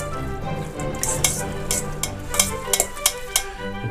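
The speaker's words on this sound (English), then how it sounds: "We'll just stir that in." A spoon stirs Parmesan into a chanterelle mushroom filling in a pan, with soft scraping and a quiet sizzle under a series of light metallic clinks that grow more frequent toward the end.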